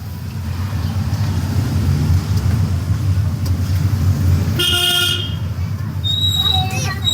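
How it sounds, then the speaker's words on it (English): A car horn toots on a narrow, crowded road among motorbikes, with a steady engine hum and road noise underneath and a short honk burst near the end. "I must give a horn because the road is very narrow"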